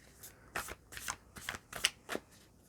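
Tarot cards are shuffled and drawn in a quick series of about six crisp, papery riffling bursts, close and fairly quiet, with no talking.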